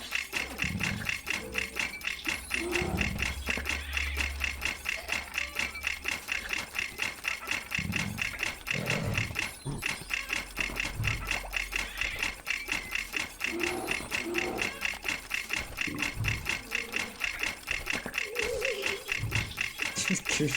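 A swarm of rats in the video game Wireworks fills the scene with continuous goofy squeaking, rattling and scurrying effects, running steadily throughout while a person talks over them.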